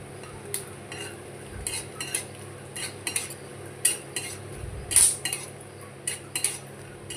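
A spoon scrapes and taps a pan as raisins fry in ghee for poha, a series of irregular metallic clinks and scrapes over a faint background sizzle, with no voices.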